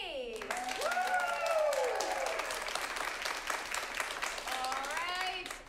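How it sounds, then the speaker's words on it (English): Audience clapping at an improv comedy shootout, sustained dense applause while a voice talks over it, with whoops and cheers rising at times. "you're gonna clap like crazy for the one you want to continue on"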